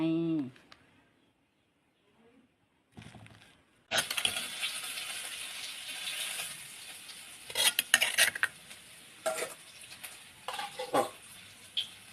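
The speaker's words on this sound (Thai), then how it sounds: "ว่าจะผัดเครื่องใน" Offal being stir-fried in a pan: after a quiet opening with brief speech, a loud sizzle starts abruptly and continues, punctuated by sharp scrapes and clinks of a utensil against the pan.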